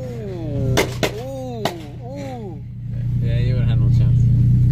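An import car's engine rumbles at a two-step street battle in Kent, Washington, a low steady drone that swells louder toward the end while people talk and shout over it in the foreground.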